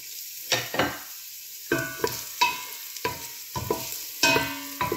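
Garlic and ginger frying in oil for chicken tinola, a series of sharp sizzling bursts and spatula scrapes in irregular rhythm, with quieter gaps between them, close-up and no talking.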